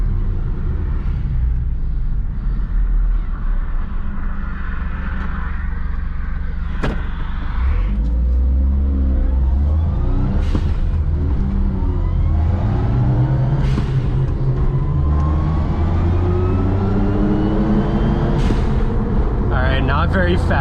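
A 1990 Suzuki Jimny with a turbocharged engine pulls out onto the road, its low engine rumble rising and falling through gear changes from inside the cabin, with someone talking over it.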